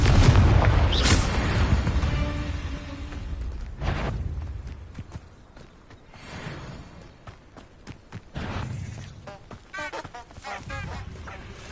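A Confringo blasting curse goes off in a video game as a series of booming explosions, a loud blast at the start followed by further softer bursts and crackling debris, with no talking.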